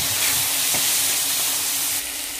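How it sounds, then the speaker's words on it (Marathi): Boiled chickpeas drop into a masala paste sautéing with turmeric, black masala and red chilli, giving a loud, steady sizzling hiss close by with no talk. "वाटण छानपैकी परतवलं त्यामध्ये उकडवले हरभरे टाकू आपण।"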